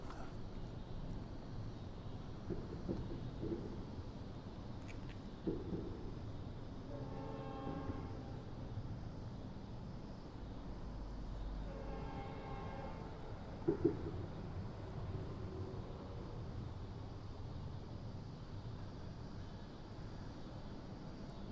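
Horns from a northbound CSX freight led by ES44DH, ES40DC, SD40E3 and GP40-3 locomotives sound in two long, fairly distant blasts with a rumbling train between them, heard outdoors with no talk.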